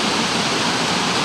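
Buttermilk Falls in Ithaca, New York pours in a steady, full-bodied roar of falling water, close and loud, with no voices over it.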